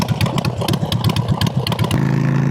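A freshly washed motorcycle's engine idles up close with a loud, throbbing hum, its pulsing beat steady throughout, the tone shifting slightly lower near the end.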